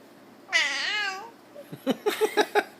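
A two-month-old baby lets out a drawn-out, wavering cry that sounds like a cat's meow, followed by a string of short, rhythmic babbling vocalizations.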